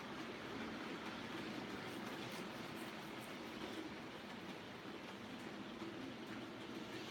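A model train runs steadily on its layout, a soft continuous rolling rumble with faint rail clicking, quiet and even throughout with no talk.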